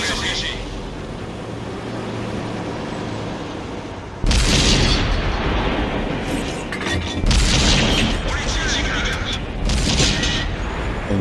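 A tank cannon shot in World of Tanks, with constant engine rumble and battle noise, then a sudden loud boom around the middle followed by further heavy blasts and rumbling, over which someone talks.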